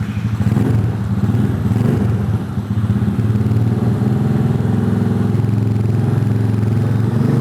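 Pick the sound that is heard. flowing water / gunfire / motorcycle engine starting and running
motorcycle engine starting and running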